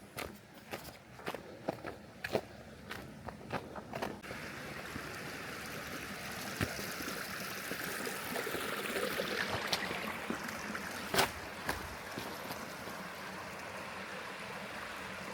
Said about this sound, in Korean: 물소리가 좋죠.